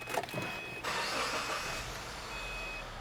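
A car engine cranks and fires up after premium gasoline is added and fuel pressure is restored: a few short bursts, then a steady, fairly loud idle rumble and whir that holds to the end.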